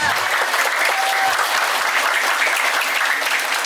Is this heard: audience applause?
yes